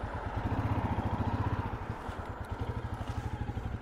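A motorbike rides up a road on a bitterly cold day, its engine giving a steady pulsing putter close by, rising and dipping slightly, with no talk.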